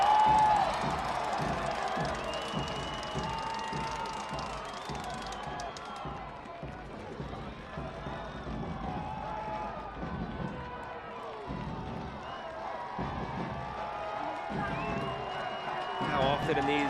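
Stadium crowd at a Las Vegas Lights FC versus Sacramento Republic FC football knockout match, a broad steady roar of fans rising and swelling under a commentator's voice.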